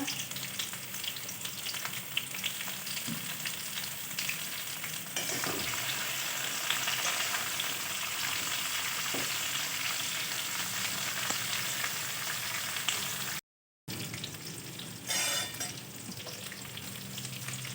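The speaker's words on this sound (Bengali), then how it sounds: "তেলটা গরম হয়ে গেছে, আমি পটলগুলোকে ভেজে নিচ্ছি" Pieces of pointed gourd (potol) frying in hot oil make a dense, even sizzle with occasional stirring sounds. It stops for a brief moment partway through, then resumes, and no voices are heard.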